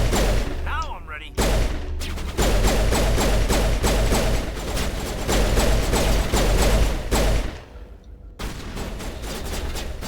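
Rapid, dense gunfire from the video game Mass Effect, Legendary Edition on PS4, with pistol shots cracking in fast continuous bursts over a low rumble, broken by a few short pauses.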